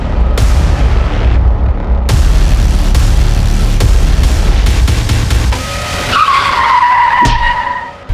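Car tyres skid loudly in a hit-and-run accident, a long harsh roar under sharp impact thuds, ending in a high screeching squeal of rubber that fades.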